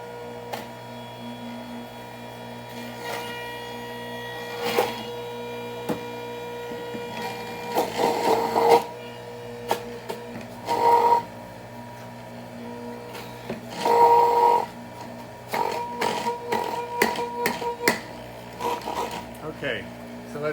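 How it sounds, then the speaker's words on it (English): Ginger being ground in an electric grinding machine: a steady motor hum with intermittent louder bursts of whirring and rattling grinding, plus scattered clicks and knocks, fairly close. "let's finish grinding our ginger."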